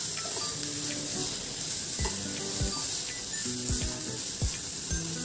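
Ingredients for a monsoon breakfast dish sautéing in a pan, a steady close sizzle with occasional scraping taps of a spatula stirring through.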